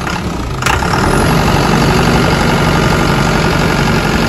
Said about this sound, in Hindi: इसकी इंजन की साउंड भी बहुत प्यारी है